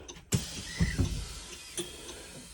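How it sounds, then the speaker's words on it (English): School bus door closing, a sharp mechanical thump followed by whirring and a couple of clunks as the door mechanism moves and latches, close and fairly quiet inside the bus. "I'm going to close the door."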